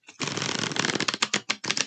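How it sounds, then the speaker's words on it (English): Tarot cards are shuffled in one quick riffle, a dense flutter of rapid card flicks close up that breaks into a few separate snaps at the end. "Let me shuffle just a couple of times"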